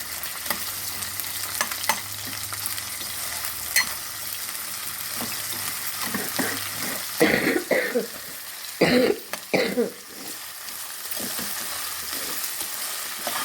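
Several sharp coughs from someone with a lingering cough burst out in the middle of the clip, close and loud, over a steady sizzle and stirring noise of pepper chicken cooking.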